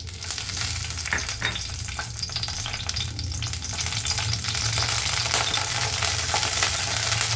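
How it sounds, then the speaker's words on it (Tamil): Seven or eight dried red chillies frying in hot oil in a pan, a loud, dense, continuous sizzle with occasional stirring scrapes, close and unbroken for the whole stretch, no voices. "இப்போ எண்ணெய் நல்லா சூடானவுடனே காஞ்ச மிளகா ஒரு ஏழு எட்டு எடுத்து வச்சுருக்கேன் அதை சேர்த்துக்கலாம்"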